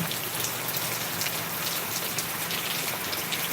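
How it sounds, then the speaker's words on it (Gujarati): Steady, dense rainfall hisses continuously on surfaces nearby in Deesa, Gujarat, an even wash of drops with no pauses. "વરસાદ ચાલુ થઈ ગયો છે"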